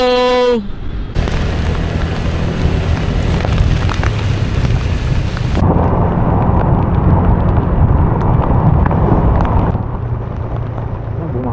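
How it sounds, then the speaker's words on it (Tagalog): Loud, steady roar of heavy rain pouring down on a mountain road in the Cordillera, a dense broadband wash that continues throughout with no speech. "Tapos ayun na yung ulan."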